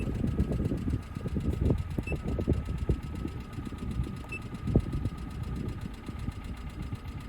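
A cheap $1000 budget race car engine idles steadily nearby, a low rumbling drone with irregular knocking pulses and no talking over it.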